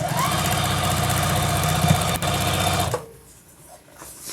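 A sewing machine runs steadily, stitching quilt fabric from a back stitch along a straight line for about three seconds, then stops, leaving only faint handling noise.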